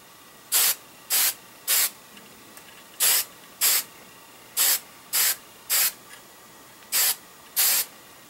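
Hairspray from an aerosol can sprayed as a second coat onto a model, heard as eleven short, loud, close hissing bursts in uneven groups with quiet gaps between them.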